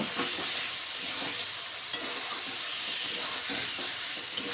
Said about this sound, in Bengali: এবার ভেজে রাখা ফুলকপি আলু দিয়ে দিলাম এগুলো দিয়েও মশলার সঙ্গে খুব ভালো করে কষিয়ে নেব